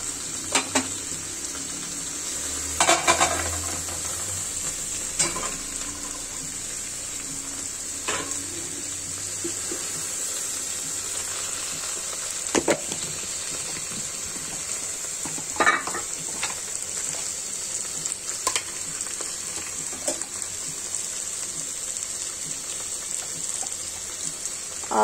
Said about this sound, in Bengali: গরম পানিটা দিয়ে দিচ্ছি